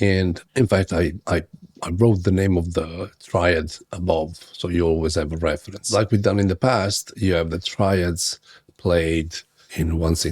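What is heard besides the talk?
No everyday noises stand out.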